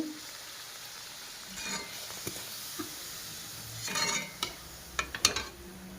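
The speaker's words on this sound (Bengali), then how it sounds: "আর একটা লুচি আছে, এটা ভেজে নেব।" Luchi flatbread frying in hot oil: a faint, steady frying hiss with a few light clinks and scrapes of utensils near the end, heard alone.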